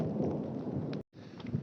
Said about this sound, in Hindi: लगातार आसमान से आसमानी बिजली कड़क रही है